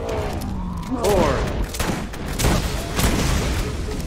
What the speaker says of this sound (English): Oh, three suicide bombs.